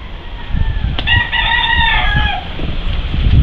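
A rooster crows loudly and close by, one drawn-out call with clucking chickens around it, at a coop damaged by a typhoon.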